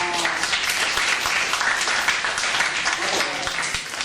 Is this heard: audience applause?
yes